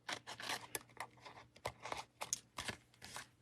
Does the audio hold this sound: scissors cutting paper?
yes